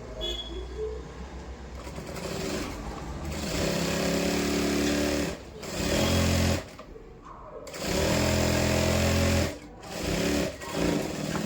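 A sewing machine stitches a cross-cut blouse in loud, close bursts of rapid mechanical whirring, broken by short pauses between runs.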